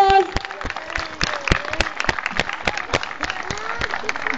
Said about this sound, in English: Parents, please, another round of applause.